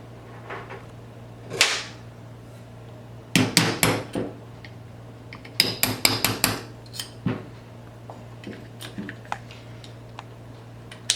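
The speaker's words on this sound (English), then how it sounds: "We're going to use our smaller punch to tap out the fire control pins." Sharp metallic taps in short clusters as a small punch taps out a gun's fire control pins during trigger installation, a few light strikes then bursts of quicker hits, close by against a quiet steady hum.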